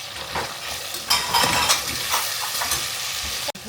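Guvar beans frying in a pan with salt, a close, steady sizzle broken by scraping stirs of a spatula against the pan, ending in a sharp knock.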